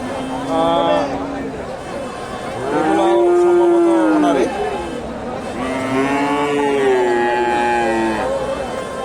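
Cattle, including Friesian heifers, moo in long, low, drawn-out calls, several in a row and fairly close, at the Dakumara cattle market, over a busy background of voices and general market noise.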